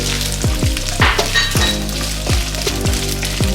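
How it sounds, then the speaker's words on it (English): Oil sizzles steadily in a pan while carrots are stirred and fried for vegetable fried rice, with repeated scraping sweeps and occasional light clinks. "Frying it about 2 to 3 minutes."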